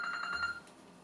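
A phone rings indoors, a faint, brief electronic tone with bright harmonics that lasts about half a second before cutting off.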